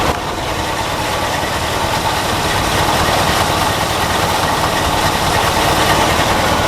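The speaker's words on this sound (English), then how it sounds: "car is on and running, and I'll get close so you can actually hear." A 1974 Mercedes-Benz 450 SEL engine idles, recorded up close, with a steady, loud, even rumble and no talking.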